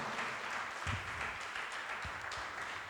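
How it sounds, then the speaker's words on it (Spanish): A church congregation applauds during a Spanish-language sermon, a moderate, somewhat distant wash of clapping with a few louder claps up close, continuing steadily without speech. "Dale un aplauso a ese Cristo."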